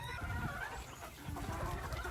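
A flock of chickens clucks and chatters continuously in a coop while pecking at pumpkin, close and moderately loud with overlapping calls and no talking.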